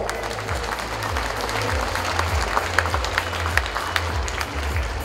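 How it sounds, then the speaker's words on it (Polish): A crowd at a youth football gala applauds a team being presented, with continuous, even clapping from many people throughout and a low hum underneath. "Wielkie brawa!"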